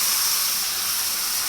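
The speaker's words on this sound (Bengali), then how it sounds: "এখন আমি মেরিনেট করা এই চিকেনটা কড়াইয়ের ভিতরে দিয়ে দিব।" Marinated chicken goes into a hot wok for chicken kacchi, a brief, loud, steady hissing sizzle with no voices.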